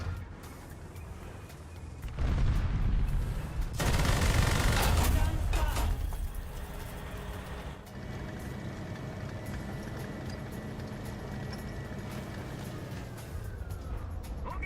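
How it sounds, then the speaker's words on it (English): Artillery fire in a video game: a heavy booming blast with a low rumble around the middle, under fainter background game noise and some speech. "oh great, artillery"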